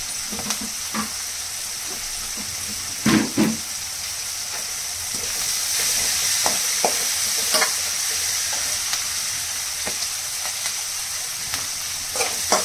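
Salted onions sizzle steadily in a hot pan, with a few sharp clinks and scrapes of a spoon against the metal.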